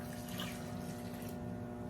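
Half a cup of water is poured during home cooking, a continuous soft trickle and splash that runs evenly and fairly quietly, heard alone.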